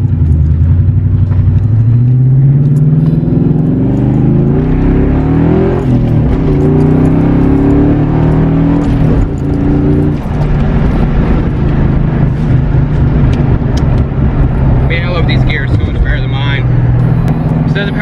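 A Ford Mustang GT with a TR3650 manual transmission drives and accelerates, its engine droning and rising in pitch through the gears as loud cabin noise beneath continuous conversation.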